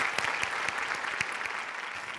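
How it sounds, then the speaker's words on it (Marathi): Studio audience applause for a comedy sketch show performance, a steady wash of many hands clapping with a few sharper claps standing out, fairly distant and even. "क्या बात है जोरदार टाळ्या"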